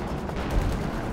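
Artillery air burst in Company of Heroes 2, a dense rumbling blast with crackling fragments, loud and close, lasting about a second with no talk.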